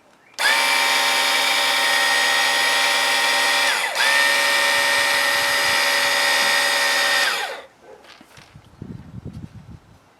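Ryobi power cleaner motor whirs steadily and loudly for about seven seconds while the trigger is held to prime it, dipping briefly midway, then cuts off, leaving faint handling clatter.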